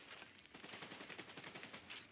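Rapid bursts of gunfire in the video game The Division 2 crackle continuously, dense and loud, with overlapping shots and no voices.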